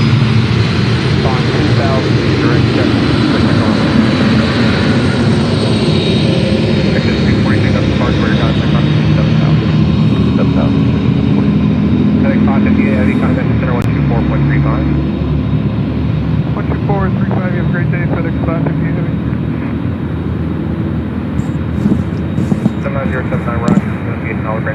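Aircraft engines roar steadily and close at Memphis International Airport, likely FedEx freighters taxiing or taking off, a continuous broadband rumble filling the whole stretch with faint voices mixed underneath.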